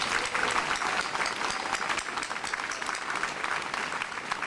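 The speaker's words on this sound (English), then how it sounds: "Let's give them a big round of applause." An audience applauds at a high school graduation ceremony, a steady, dense patter of many hands clapping, continuous and somewhat distant.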